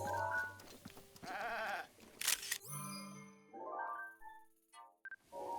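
Goats in Zelda: Breath of the Wild, with several wavering bleats rising and falling against game chimes and tones, fairly soft and alone without talk.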